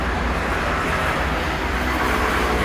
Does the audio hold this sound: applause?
no